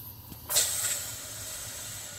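A SodaStream carbonating petrol, the gas pushing through in a sudden loud hiss that starts partway in, then settles into a steady fizzing rush that holds to the end.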